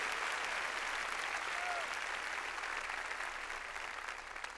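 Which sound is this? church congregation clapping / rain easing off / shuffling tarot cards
church congregation clapping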